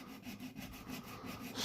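Sandpaper wrapped around a small wooden wand rubs back paint and lacquer on a Gibson Les Paul guitar body, making a steady, close scratchy rasp in short repeated strokes.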